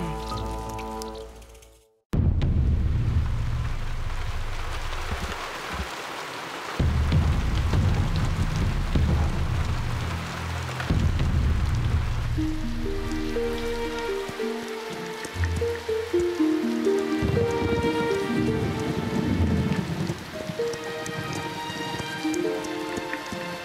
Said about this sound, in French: Est-ce que cette pluie va enfin s'arrêter? Elle tombe depuis des jours et des jours.